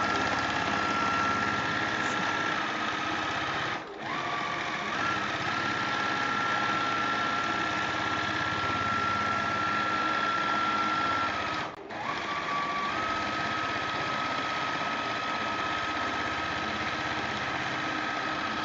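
Automated quilting sewing machine stitching a small design, a fast, steady high-pitched whir with a faint tone above it, broken by two brief pauses as the machine shifts position.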